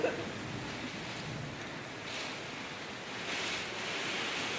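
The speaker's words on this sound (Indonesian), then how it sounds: "Hujan gampang parah. Tambah gede hujannya." Heavy rain in a strong windstorm at a mall, a loud, steady hissing roar that swells in gusts and stays close and unbroken throughout.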